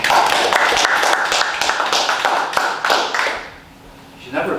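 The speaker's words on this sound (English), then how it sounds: "You should never applaud until you hear the speaker first." An audience at a meeting applauds, a dense patter of many hands clapping that fades out toward the end before a brief sound returns, with voices mixed underneath.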